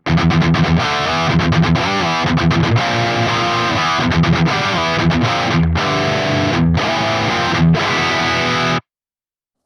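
Heavily distorted electric guitar through a Soldano SLO-100 amp with the bass turned down chugs and strums with a thin, lean low end, loud and continuous with brief gaps, then stops abruptly.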